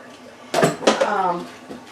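Drained sliced potatoes tumble into a crock pot for beef stew, a few clattering knocks and dull thuds of pieces hitting the ceramic pot, close by, with someone talking over it.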